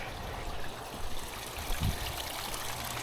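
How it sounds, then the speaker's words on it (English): Water trickling in a small fairy garden pond driven by a pump, a continuous close, soft babble with steady splashing and no voices. "got the fairy garden pond up and running. So the pump Pump is in there."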